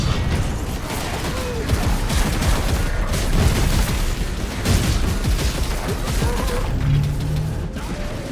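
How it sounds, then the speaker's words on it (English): Grenade explosions and heavy combat in the Space Marine video game, a continuous dense barrage of booms and crashes with rumbling low end throughout. "they're throwing grenades."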